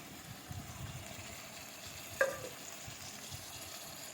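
Ginger garlic paste fries in a pan for a village-style spicy chicken curry, giving a faint, steady sizzle with one brief clink of a stirring utensil partway through.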